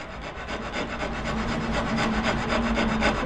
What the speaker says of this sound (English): take your azebiki no kugiri, Japanese saw that's shaped like this, put it in that knife wall and cut the shoulders